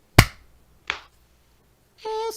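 A single sharp sync clap at the start of a recording, followed by a second softer clap nearby. A brief voiced sound comes in at the end.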